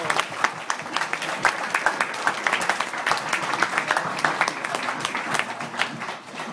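Wedding guests at a reception clap steadily for the ushers during the best man's speech, a moderate, even patter of many hands in a room that lasts several seconds with no talking over it.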